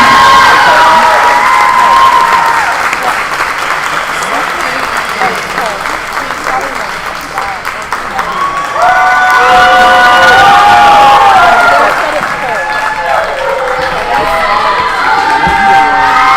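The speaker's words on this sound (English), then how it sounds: "please give a round of applause for the NCCSA Girls Volleyball All-State Team." A large crowd applauds and cheers loudly at a girls' volleyball state finals event, with children shouting and whooping. The applause swells again about halfway through and continues steadily to the end.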